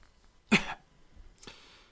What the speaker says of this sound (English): The other coughed, and, rising, walked slowly to the window.